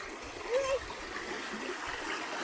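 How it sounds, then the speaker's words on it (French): Water runs in a stream across an outdoor path with a soft, continuous splashing flow, fairly quiet and steady, and a faint voice is briefly heard early on. "ça coule bien, ça fait rivière"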